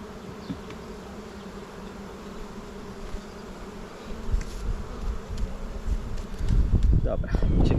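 Many honey bees hum in a dense, continuous buzz close by at an open hive as a second box is added, growing louder and busier toward the end with some rustling and brushing noise.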